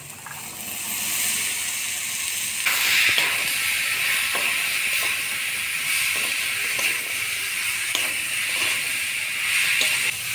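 Boiled chickpeas and potatoes stirred into frying spices in a pan, a steady close hiss and sizzle with intermittent scraping and clicking from the stirring, growing slightly fuller partway through.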